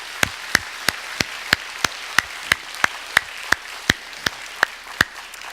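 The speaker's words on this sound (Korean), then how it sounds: "감사의 박수로 우리 마음을 올려드립시다" A church congregation claps in thanks during a service: a single steady beat of sharp, evenly spaced unison claps, roughly three per second, ringing clearly in a reverberant hall.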